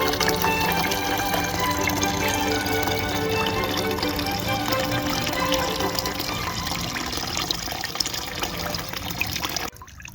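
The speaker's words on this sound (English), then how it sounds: "No, that's not a stream or a pond. That's the gas tank." Fuel gushing and pouring steadily from the rusty, sediment-laden gas tank of an old Chevrolet Caprice raised on a lift, a continuous close liquid splash that cuts off abruptly near the end.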